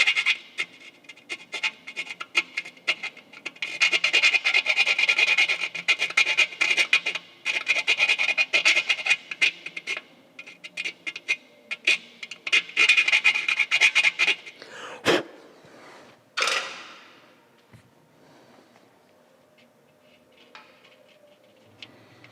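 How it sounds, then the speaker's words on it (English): A hand file rasps inside a hole in a painted motorcycle part on a Road King bike build, a long run of close, gritty scraping strokes with short pauses, followed by a couple of sharp knocks and then near silence. "So I'm gonna just lightly file the inside of this hole."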